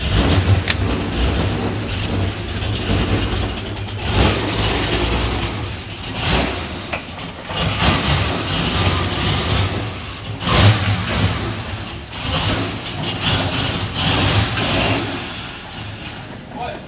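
A car with a GM LS engine runs steadily and loudly throughout, with a few revving surges, and people talk over it.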